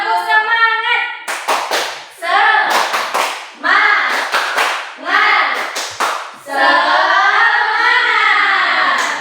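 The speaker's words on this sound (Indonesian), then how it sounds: "Kita tepuk semangat dulu ya" Students in a classroom clap out a rhythmic spirit chant, bursts of hand claps alternating with voices chanting and a teacher speaking, loud and close.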